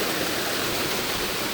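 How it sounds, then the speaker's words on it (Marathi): Heavy water pours down at the Randha and Vitha waterfalls as a dense, unbroken roar, close and loud. "पाणी जास्त पडतंय."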